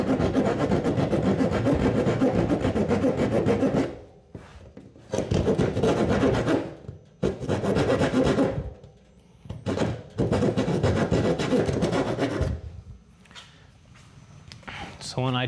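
A saw cuts through a sheet of plywood from the back face in a cabinet build, producing several rough, rasping bursts of stroking separated by short quiet pauses, close and fairly loud.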